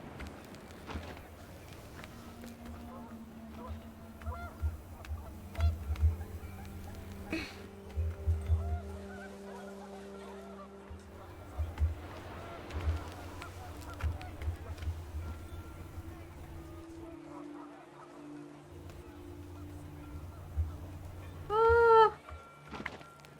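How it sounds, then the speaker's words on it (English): Panicked geese honking in the video game What Remains of Edith Finch as the wind picks up: scattered honks and cackles over a soft windy bed, ending in a brief louder burst of calls. "The wind picked up, and panicked geese appeared and quickly went."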